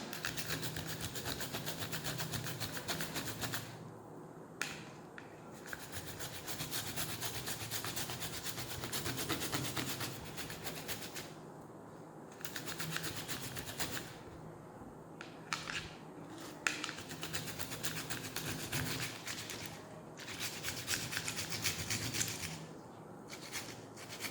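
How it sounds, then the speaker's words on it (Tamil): Freshly cut aloe vera leaf being scrubbed by hand, a steady close rubbing and scraping that runs in long strokes broken by short pauses, with no talk. "நல்லா ஸ்க்ரப் பண்ணி விட்டுக்கோங்க."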